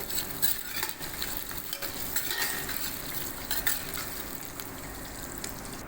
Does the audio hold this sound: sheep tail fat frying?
yes